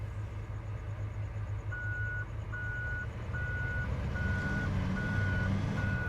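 Steady, evenly spaced electronic reversing beeps from a tractor in Farming Simulator 17, a regular on-off tone repeating about six times over a constant low engine rumble.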